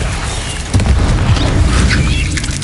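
A Bombarda spell blast from the PS5 game Hogwarts Legacy, a loud, low booming burst that swells suddenly and rumbles on with crackling debris for a couple of seconds.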